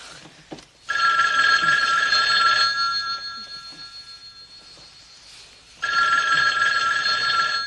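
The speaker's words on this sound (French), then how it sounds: "le téléphone n'arrête pas" An old-style telephone bell rings loudly in two long bursts separated by a quieter gap, the ring bright and insistent in an indoor setting.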